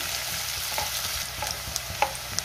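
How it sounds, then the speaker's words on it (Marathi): Onion and green chillies sauté in hot oil for potato bhaji, a steady close sizzle broken by light scrapes and taps as a spoon stirs the pan. No one speaks. "कांदा चांगला 2 ते 3 मिनिटं मी परतून घेणार आहे"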